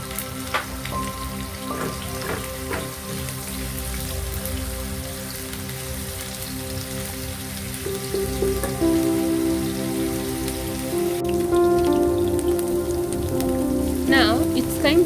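Chopped onions sizzle steadily in hot oil in a pot, a dense crackling hiss that rises slightly partway through, with faint clinks near the end.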